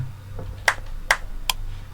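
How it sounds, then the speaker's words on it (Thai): Three sharp hand claps in a Roblox game, spaced a little under half a second apart, sound crisp over a low background hum. "เดี๋ยวต้องปรบมือ"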